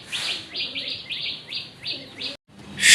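A male red Mosal Dom pigeon calling, a close, steady series of repeated throaty coos and chirpy notes in an even rhythm, cut off briefly before a louder bright burst.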